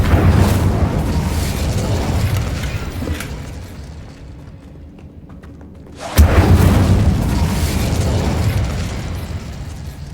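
Incendio fire spell blasts in a Hogwarts Legacy fight: loud booming explosive bursts with a roaring rumble, a brief quieter lull midway, then another sharp heavy blast and continued roaring.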